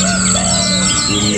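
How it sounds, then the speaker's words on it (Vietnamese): Small songbirds such as sunbirds chirp at a caged bird market in Lang Son, Vietnam, with a steady dense twittering close by over a constant background hum. "những con chim rất nhỏ, ví dụ như chim hút mật này, chim tiểu mi mi đất này"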